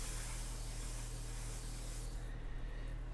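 An airbrush sprays ink in a continuous close hiss, steady and unbroken, easing slightly in its upper register toward the end.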